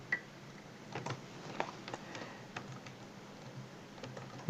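Close keystrokes on a computer keyboard while C++ code is written, a run of irregular light clicks and taps with no talk.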